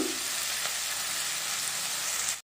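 Sliced onions frying in a pan for a tamarind-leaf chicken fry, a steady, dense sizzle holding at even loudness with no talk, then cutting off abruptly.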